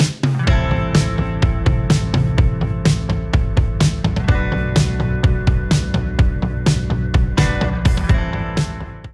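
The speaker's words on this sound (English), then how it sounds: "So let's get cutting some of these tubes and start bending them up." Steel tubes being cut for a tilt front end on a 1955 Chevy panel truck, a loud, continuous metallic grinding broken by a rapid string of sharp ringing strikes, close by with no talking.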